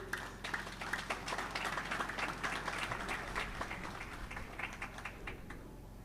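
Steady applause from an audience at the inauguration of a technical high school in Petit-Trou-de-Nippes, a dense sustained patter of many hands clapping throughout, moderately distant.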